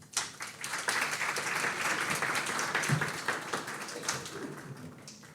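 An audience at a panel on green and social bonds gives sustained applause, a dense, even wash of clapping that swells quickly and holds steady for several seconds before easing slightly.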